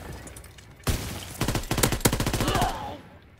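Rapid gunfire in the World War II shooter game Call of Duty: WWII, a sharp single shot followed by bursts of quick automatic fire, loud and close, trailing off into quiet.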